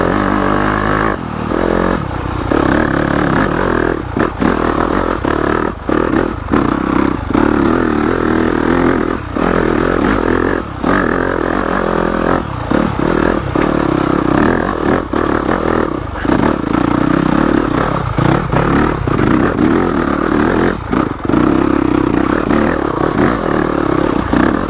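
A Yamaha YZ250FX dirt bike with a 270 big bore kit and stage 2 cams climbs uphill in third gear without the clutch, its engine droning loud and close for the whole clip, with rattles and scrapes along the way.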